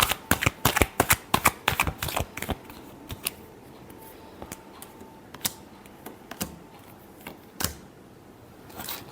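Tarot cards being shuffled by hand, a quick flurry of crisp riffling snaps at first that thins into scattered single card slaps, close and clear with no talking.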